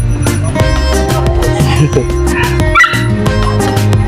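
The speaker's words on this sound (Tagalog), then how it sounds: "Doon yung mga aso." Several dogs bark and yip in quick bursts, with some whimpering, close by over a busy background of people.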